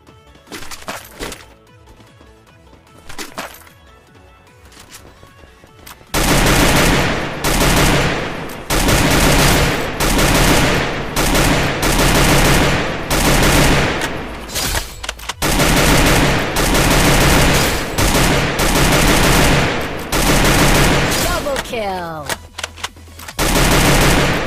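Gunfire in a battle royale video game, loud sustained bursts of automatic fire rattling for long stretches after a quieter opening, with game music and a voice talking at times.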